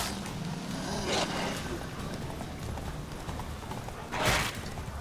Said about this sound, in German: Muss glaube Eskis Pferd sein